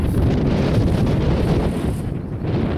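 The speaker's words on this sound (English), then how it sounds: "As it gets windy" Steady, loud wind roars and buffets the microphone beside a canal near a city suburb, a continuous rumbling rush that eases slightly toward the end, with no voices.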